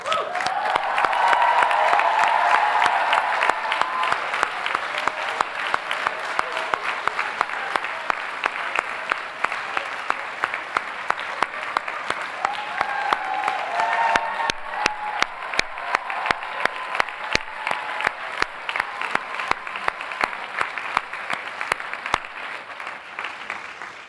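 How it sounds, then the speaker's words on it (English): Sustained applause from a large audience at a Columbia University master's graduation ceremony, dense, even clapping filling the hall for the whole stretch, with scattered louder individual claps and a slight dip midway. "I would ask all master's candidates to rise and applaud those friends and family members who have helped them to be here today"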